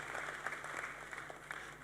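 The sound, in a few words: audience applause for panelists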